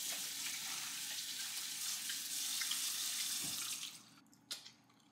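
Tap water runs steadily into a sink while fruit from a dollar store is rinsed, a close, hissing stream that stops abruptly near the end, followed by a faint knock.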